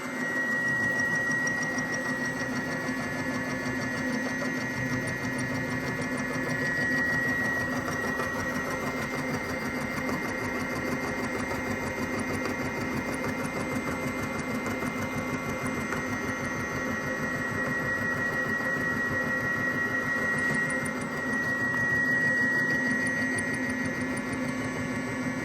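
Lathe running while a scratch-built chuck key is cleaned up, a steady mechanical hum with a faint high whine and light rhythmic chatter, continuous and moderately quiet with no talking.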